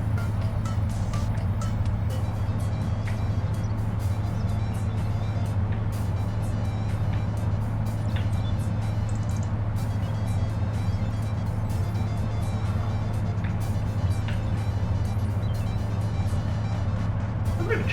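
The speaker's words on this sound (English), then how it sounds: "Let's empty this truck since we're right here." Truck engine in a farming video game during a sugar beet harvest, a steady droning rumble that holds the whole time, with light clicks and game sounds over it.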